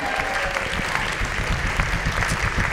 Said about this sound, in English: please keep your wonderful applause going